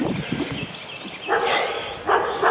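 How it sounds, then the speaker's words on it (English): A dog barks in two bursts, a short pause between them, over a noisy indoor background. "dog barking"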